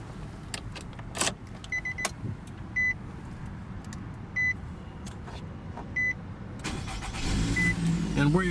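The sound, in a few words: Nissan Rogue 2.5 liter 4-cylinder engine starting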